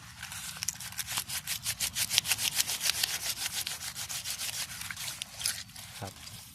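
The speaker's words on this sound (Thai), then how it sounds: "ขยี้ใน น้ำหรือว่า ย่องในน้ำครับ" Po mee herb leaves are crushed and rubbed by hand in water, giving steady, rhythmic, close-up wet rubbing strokes that repeat evenly for several seconds before slowing near the end.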